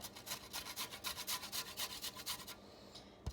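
Lemon peel scraped against a grater for zest while seasoning a turkey with sofrito, a steady rhythmic rasp of about fifteen quick strokes, close and alone, ending with a couple of soft knocks.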